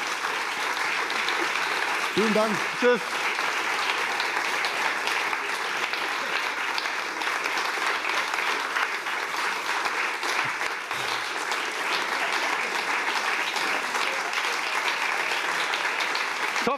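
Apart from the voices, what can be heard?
long-lasting audience applause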